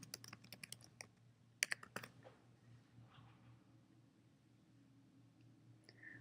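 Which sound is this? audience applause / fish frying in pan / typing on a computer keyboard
typing on a computer keyboard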